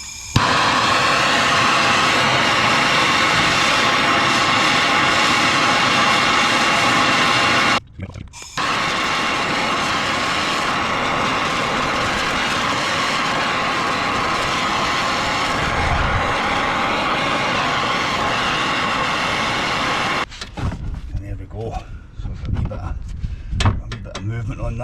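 A MAPP gas torch roars steadily and loudly as it heats a track rod end on a Nissan Elgrand. The flame cuts out briefly, then the roar resumes and continues until it stops near the end, leaving softer clicks and clatter.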